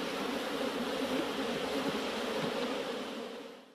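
Honeybees buzzing among flowers in a large flowering landscape, a dense, steady drone that holds throughout and fades slightly at the end.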